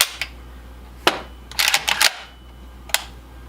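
An IWI Galil rifle fitted with an ALG Defense trigger dry-fires with sharp, isolated metallic clicks: one early, a cluster of rapid mechanical snaps and rattles in the middle, and a final lone click, all close and alone.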